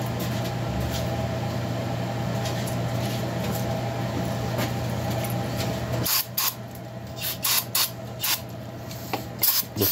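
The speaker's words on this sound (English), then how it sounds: "Let me blow it out with some brake cleaner" Brake cleaner sprayed to blast metal chips out of threads during spark plug thread repair: a steady hissing aerosol for several seconds, then short bursty sprays with pauses, close and fairly loud over a constant mechanical hum.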